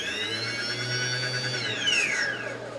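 A small ArduCopter drone motor, run by an APM 2.6 flight controller at low throttle during a motor test, spins with a steady high whine. The pitch drops away as it winds down near the end, and no one speaks.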